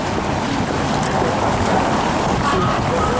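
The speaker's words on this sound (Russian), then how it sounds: "А сейчас идет дождь." Steady rain falling near Red Square in Moscow, a dense, even hiss of drops that continues without pause.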